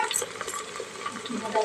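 Onions browning in a hot pan while being stirred for cooker tomato rice, with a soft crackling sizzle and intermittent scrapes of a spoon against the pan, close and fairly quiet.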